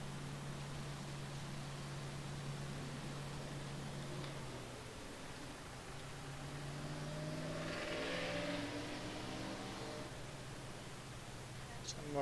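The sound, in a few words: traffic noise outside through open door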